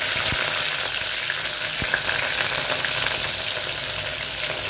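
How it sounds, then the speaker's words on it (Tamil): Chopped onions fry in oil in a clay pot for fish kuzhambu, giving a dense, loud, continuous sizzle close by with a couple of faint knocks and no talking. "இப்போ நான் கட் பண்ணி வச்சுருந்த வெங்காயம் சேர்த்துக்கிறேன்."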